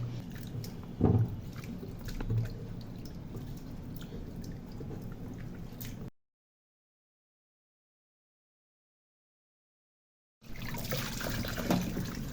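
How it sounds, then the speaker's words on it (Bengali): Dried fish being rubbed and washed by hand in hot water, giving close, wet squishing and trickling sounds with small splashes, broken by a stretch of silence before the washing resumes. "এই গরম পানিতে আমি 2 মিনিট শুটকিটা ভিজিয়ে রেখে এই যে এভাবে ভালো করে ডলে ডলে ধুয়ে নিচ্ছি।"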